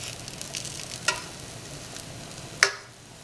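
Schnitzel cutlets fry in a pan with a soft, continuous sizzle, broken by a faint clack and then a sharper utensil clink against the pan near the end.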